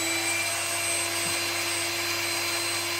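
An electric hand mixer whirs steadily in a bowl of chocolate chip cupcake batter, giving a constant droning motor hum with no talking over it.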